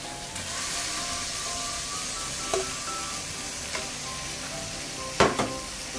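Pork liver frying with garlic in a pan, a steady close sizzle running throughout with a few sharp clicks and scrapes of stirring, no talk.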